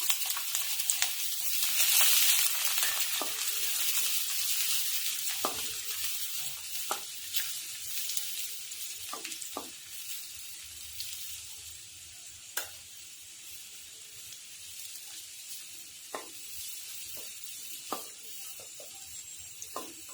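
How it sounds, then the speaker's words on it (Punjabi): Garlic and ginger fry with cumin seeds in hot oil in a pan, a steady bright sizzle with scattered clicks and scrapes of stirring throughout, close and continuous with no voices. "ਹੁਣ ਆਪਾਂ ਇਹਦੇ ਵਿੱਚ ਲਸਣ ਤੇ ਅਦਰਕ ਪਾ ਦਵਾਂਗੇ"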